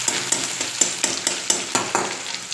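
Ginger garlic paste fries in a pan as a spoon stirs it, with a continuous sizzle broken by regular scraping strokes at a quick, even rhythm.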